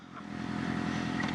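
A loud motorcycle engine idles and builds slightly, a low rumbling drone with a faint harmonic pulse that swells in the first half-second and then holds steady, with no talk.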